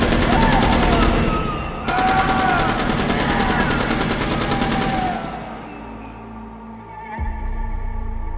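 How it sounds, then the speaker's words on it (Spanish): Rapid bursts of automatic gunfire, dense and loud, cutting off and resuming before fading into a lower rumble. "Disparos seguidos de gritos hicieron que me detuviera donde estaba."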